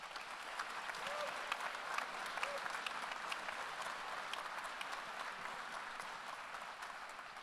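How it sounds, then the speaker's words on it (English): An audience at a Jewish community candidate forum for the 2026 California governor race applauds the gubernatorial candidates. The clapping is dense, steady and sustained throughout, with a faint whistle or two rising above it. "And now you may clap."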